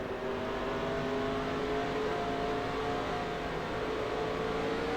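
A stock car engine in NASCAR Racing 2003 at Phoenix, lugging at low RPM below its power band, a steady droning hum with tonal engine harmonics held evenly throughout, no voices.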